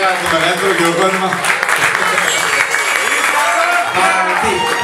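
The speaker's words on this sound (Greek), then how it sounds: "Για να το μεγαλύτερο χειροκρότημα." Audience applause at a 2014 carnival show with a live band, dense steady clapping filling the whole stretch with tonal music or voices faintly mixed underneath.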